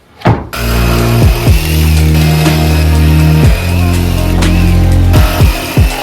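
A power saw cuts a wooden fingerboard park piece, whining loudly and up close in a sustained tone whose pitch dips repeatedly as the blade bites into the wood and slows.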